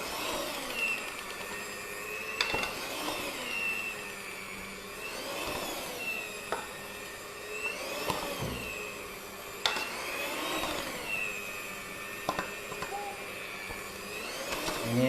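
A cheap hand mixer, costing about 100,000 rupiah, beating donut dough, a steady close whirring drone with rhythmic sweeping pitch swells and occasional clunks as the beaters hit the bowl, continuous throughout.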